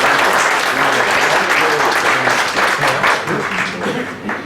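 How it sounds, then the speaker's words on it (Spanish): Audience applause at a university law faculty lecture, a dense, steady roar of many hands clapping that fills the whole clip, loud and continuous before tapering slightly at the end. "le damos un aplauso"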